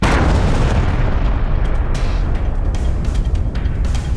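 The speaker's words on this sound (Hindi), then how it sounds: "इस सन्नाटे में एक गोली की आवाज गूंजती है और उसके बाद जबरदस्त धमाका होता है।" A massive blast levels a militant hideout in Kashmir, a loud, sustained booming roar that fills the whole stretch with rumbling debris and crackling bursts, no speech heard.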